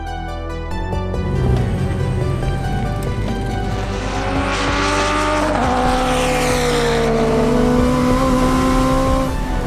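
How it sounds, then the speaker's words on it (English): A 2008 Honda Civic Type R race car, a turbocharged center-drive build, at a Super Lap Battle time attack event, with a loud sustained engine roar that climbs and shifts in pitch as it revs, steady and close throughout. "We're running our 2008 Civic Type R."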